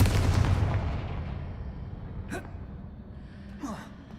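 Confringo spell blast in Hogwarts Legacy: a loud fiery burst at the start that fades into a rumble, followed by two sharp, brief whooshing impacts.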